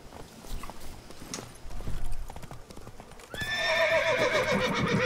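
Roach, the horse in The Witcher 3, gallops with steady close hoofbeats over game music, and a neigh and louder pounding hooves swell near the end of the run.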